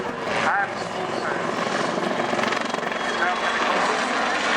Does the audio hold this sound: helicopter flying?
yes